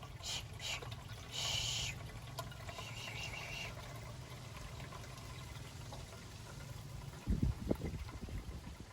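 Boiled water pours out of a pot while bamboo shoot soup is being made, a steady watery rush and trickle with a few clattering knocks, ending in louder splashes and bumps.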